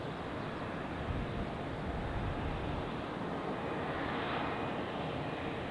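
A jet airliner at Zurich Airport roars steadily at a distance, a broad, even engine rumble that never breaks.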